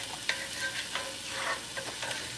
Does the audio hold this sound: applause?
no